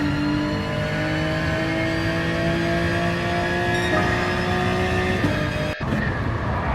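Onboard engine of a Citroen race car in a racing video game, a loud sustained high-revving drone with steady harmonics that dips sharply near the end as the driver lifts or shifts.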